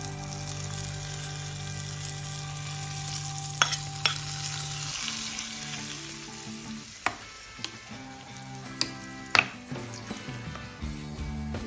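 Dadhojanam is stirred and mixed in a pan with the stove switched off. There are soft scraping strokes and occasional sharp spoon taps against a low background hum, with no speech.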